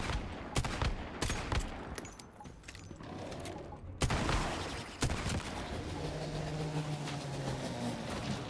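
Gunfire in the survival shooter Once Human, scattered sharp shots and short bursts spread over several seconds, followed by a softer rumbling hum.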